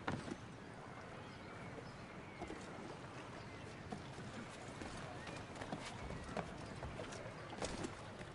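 Horse hooves clip-clopping in the Assassin's Creed 3 video game, a steady busy patter of hoofbeats amid constant street ambience, with voices in the scene.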